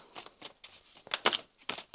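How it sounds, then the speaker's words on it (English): Tarot deck being shuffled by hand, a series of short papery riffles and flicks in irregular bursts, close and fairly quiet, with no talk over them. "One more shuffle."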